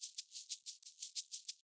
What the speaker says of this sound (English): So the shaker sounds like this.